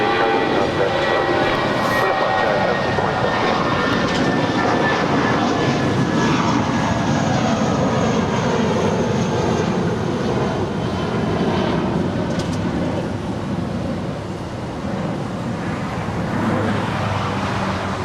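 United Airlines Flight 1635 departing LAX for Washington Dulles, a loud sustained jet roar with whining engine tones that holds steady, then eases slightly late in the clip, with no talking.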